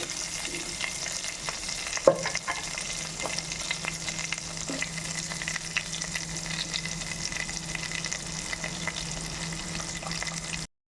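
Whole spices frying in a pan for a spiced rice dish, a steady close sizzle and crackle running throughout with a sharp clink near the start, no voices.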